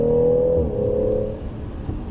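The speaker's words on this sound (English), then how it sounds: "It has all of that new BMW character in the engine, which is with really enthusiastic exhaust vocals" A 2018 BMW X3 M40i's six-cylinder engine drones steadily through its exhaust, close and fairly loud, with a humming tone that dips slightly in pitch partway through before settling into a rougher rumble.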